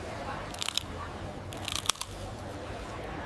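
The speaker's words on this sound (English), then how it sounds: "Listen to that. This is the crunch moment." Crisp crunches of someone biting into hot, crispy fried Hue street food, two short clusters of close, sharp crackles with a quiet background between them.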